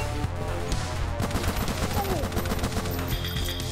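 A gun fires rapidly in the video game Huntdown, a dense run of sharp cracks in quick succession over driving game music, with players chatting briefly.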